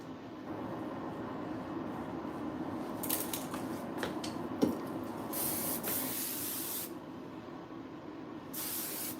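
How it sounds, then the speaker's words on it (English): Sebastian Shaper hairspray sprayed onto hair in a salon, several short hissing bursts close by, with a couple of longer sprays, over a low background hum with no talk. "I just sprayed a little bit of Sebastian Shaper on her hair just to kind of keep the shape"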